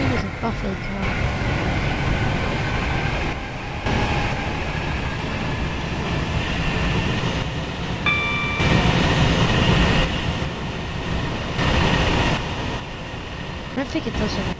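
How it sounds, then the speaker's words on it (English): A train runs in the Roblox game SCR (Stepford County Railway) as a steady, continuous rumble and rolling hum, with brief tonal chimes partway through, under a continuous voice talking over it. "the sound of the train is so unrealistic"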